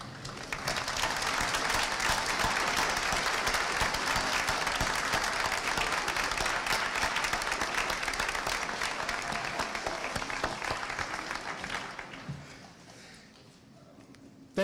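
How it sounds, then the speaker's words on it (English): An audience applauds at a nursing school pinning ceremony: loud, dense clapping fills the hall for about twelve seconds, then thins and fades to quiet. "please stand up, turn around, and applaud those who have helped you get to this point"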